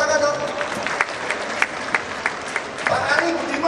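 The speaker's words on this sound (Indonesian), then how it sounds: "Tepuk tangan dong" Audience applause for a world badminton champion called up onto the stage at the opening of Jakarta Marketing Week, a steady crowd patter with sharper claps standing out, and a voice speaking over it throughout.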